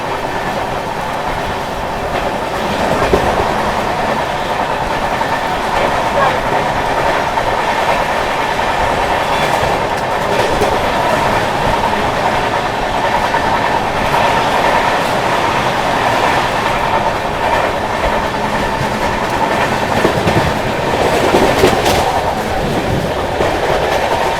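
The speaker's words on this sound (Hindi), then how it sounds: "अपनी ट्रेन जो है इटावा जंक्शन स्किप करने जा रही है" The Mahabodhi Express runs through Etawah Junction without stopping, a loud close rumble with steady clickety-clack of wheels over rail joints and a brief squeal near the end.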